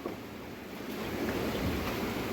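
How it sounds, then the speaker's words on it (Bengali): Heavy rain pours steadily outdoors, a dense, continuous rushing wash that swells slightly after the first second and carries on with no voices. "প্রচুর বৃষ্টি পড়তেছে এদিকে।"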